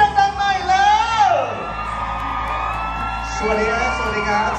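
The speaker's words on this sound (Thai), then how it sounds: "ขอเสียงกรี๊ดดังๆหน่อยเร็ว" An audience at a stage ceremony for a Thai drama series screams and whoops loudly in a sustained rising-and-falling crowd roar, with shouting voices mixed in near the start.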